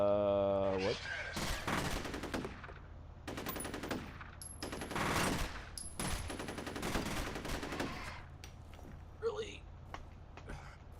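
Bursts of gunfire in the video game Destiny, with several loud volleys of rapid shots spaced over a few seconds and a player talking between and over them.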